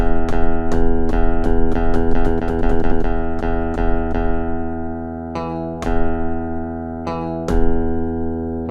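Electric guitar recorded direct through a Hosa DI box into an MPC Live with a bright tone: a loud series of plucked, ringing notes, a rapid flurry in the middle, then slower sustained notes fading out, with no voices.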